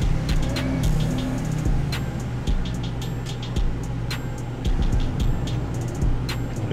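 Mercedes-Benz S63 sedan with 22-inch wheels driving in GTA 5, a steady loud engine drone with periodic clunks and rhythmic ticking over continuous road rumble.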